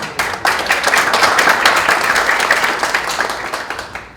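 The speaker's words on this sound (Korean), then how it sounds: "큰 박수 부탁드리겠습니다." An audience at a National Assembly policy forum in Korea gives a lawmaker sustained applause as he is called to the podium, dense clapping that starts abruptly and holds steady before tapering off at the end.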